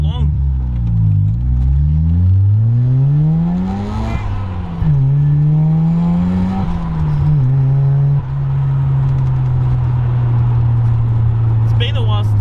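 A Mazda RX-7's engine revs hard while driving, its pitch climbing and dropping through several gear pulls before settling into a steady loud drone, heard from inside the car with the windows up.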